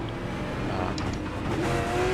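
Super late model race cars in the iRacing sim at Nashville Fairgrounds Speedway, engines droning steadily in a broad continuous roar with a rising tone near the end, no clear words.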